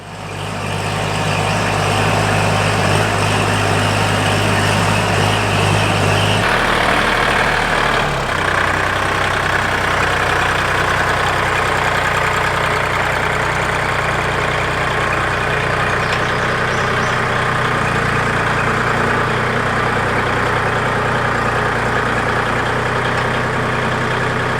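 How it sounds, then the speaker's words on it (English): A farm tractor's engine runs steadily in a garden setting, a loud continuous low rumble with a brief shift in tone early on, then holding an even drone throughout with no talking. "So nice to drive the tractor under the shed"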